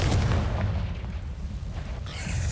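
Fire-spell explosion from the Hogwarts Legacy video game, a loud booming blast at the start that rumbles and decays, with a second burst of noise near the end.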